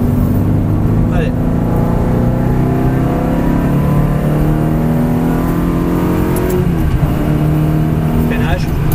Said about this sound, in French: Là, tu vas pouvoir accélérer progressivement.